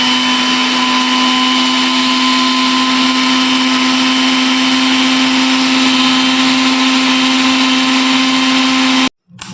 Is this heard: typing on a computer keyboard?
no